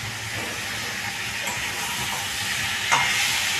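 Tomatoes stirred and fried in a pan with ridge gourd and spices give a steady close sizzling hiss, with a few small scraping bursts and no talk.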